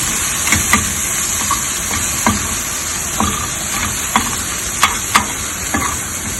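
Coriander powder roasts in a hot pan with a steady loud sizzle, broken by repeated scraping and stirring clicks from a utensil at an uneven rhythm.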